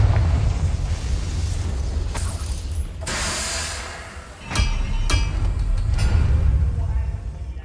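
A Confringo fire spell blast in Hogwarts Legacy, with bursts of crackling, whooshing impact noise layered over a steady rumbling game background, loud and close, followed by a few shorter sharp hits.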